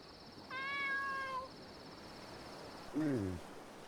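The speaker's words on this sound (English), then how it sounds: "it's Momo's meow" A cat in the Dave the Diver video game gives a long tonal meow followed by a second shorter, lower meow, close and clear over a faint chirping insect-like background.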